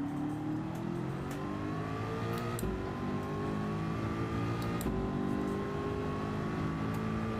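A Gr.3 race car roars around Daytona International Speedway in Gran Turismo 7. The engine note is loud and continuous, rising in pitch as it revs and dropping sharply at each gear shift, with no voices.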